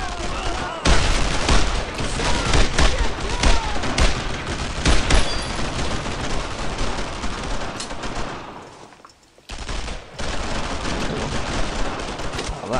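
Heavy, continuous gunfire rattles through a World War II battle in Brothers in Arms: Road to Hill 30, dense overlapping bursts and volleys with a brief lull near the end before the shooting resumes loud and close.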